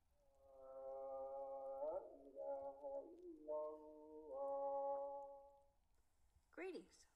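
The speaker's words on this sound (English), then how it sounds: "The music you've just heard is the call to prayer, broadcasted from a nearby mosque." A call to prayer from a nearby mosque in Kuwait carries faintly as a single melodic voice. The long sustained notes slide and bend between short pauses, then end in a brief falling phrase.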